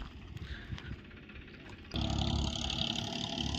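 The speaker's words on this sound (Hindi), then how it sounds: "अभी ट्रैक्टर से पाड़ कर रहे हैं हम" A tractor pulling a harrow across a farm field, its engine a steady mid-pitched drone that suddenly grows louder and fuller partway through, as if revving up or moving closer.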